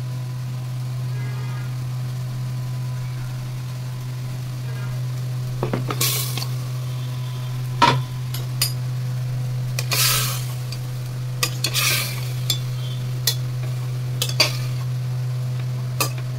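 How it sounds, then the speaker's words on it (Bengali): Turmeric-spiced masala fried and stirred in a pan for butter chicken, with scattered scrapes and clinks of a spoon against the pan over a steady low hum and soft sizzle, moderately close, no voices. "হলুদ গুঁড়ো দিয়ে মশলাটাকে কষাচ্ছি।"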